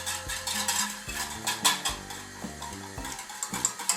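Cocoa powder is stirred into a mixture for Halloween worms, with irregular scraping and clinking of a utensil against the bowl set against steady background music.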